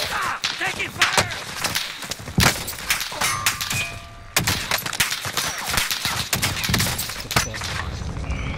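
Rapid bursts of video game gunfire crackle and pop through a multiplayer firefight, with clangs and dings of hits mixed in, while players talk excitedly over the shooting.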